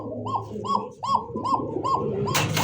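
Fancy pigeons coo in a repeated rising-falling pattern, about six calls in a row, close and clear, with a brief hiss of noise at the end.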